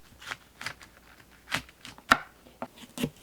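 A knife slicing cauliflower into thick slices on a cutting board, several distinct crisp chops at an irregular pace, close and fairly quiet with no voices.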